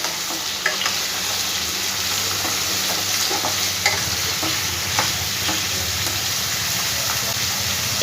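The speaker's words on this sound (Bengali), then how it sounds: "দিয়ে খুব ভালো করে একটু পেঁয়াজ তেলের সাথে মিশিয়ে নেব।" Cut potatoes get stirred into onion and hot oil in a pan, a steady sizzle with scraping spoon strokes and occasional clinks, close and continuous, with no talking.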